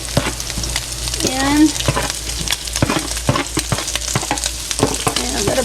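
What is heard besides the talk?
onions frying and sizzling in a pan for cheesesteaks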